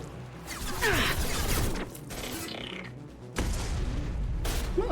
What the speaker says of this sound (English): Random explosion?